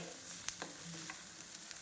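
Faint sizzle and light stirring of coriander roasting in a kadhai, with a few soft scraping clicks over a quiet crackle.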